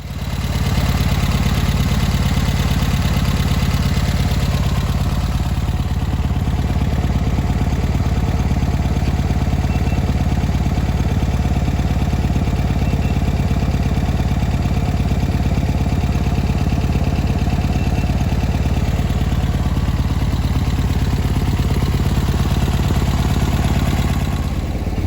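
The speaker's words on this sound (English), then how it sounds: "How is this car idling that well if it's got 0 fuel pressure" A Volkswagen car engine idles steadily up close, a loud, even low rumble with light mechanical clatter holding constant for about twenty-five seconds without speech.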